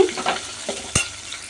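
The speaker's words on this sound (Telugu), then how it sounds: "తాలింపు అయితే బాగా ఫ్రై అయ్యింది" A tempering of dried red chillies fries and is stirred in a pan, giving a steady close sizzle broken by a few scraping stir strokes and one sharp clack, with no voices.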